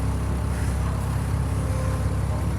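Open-top City Sightseeing bus in Bournemouth, registration LX05 GDZ, driving with a steady low engine drone and constant rattling, close and continuous, with no one talking.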